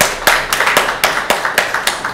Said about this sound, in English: I welcome you to give applause to our students